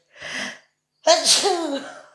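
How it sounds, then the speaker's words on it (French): A sharp sneeze bursts out after a brief intake of breath, loud and close, with no one speaking. "je déteste éternuer"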